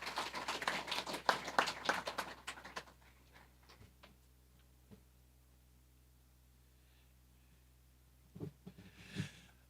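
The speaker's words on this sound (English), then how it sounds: "Give them a round of applause" Audience applause at a CTE letter of intent signing day, a short burst of clapping for about three seconds that fades to near silence, followed by a few scattered faint claps and small noises.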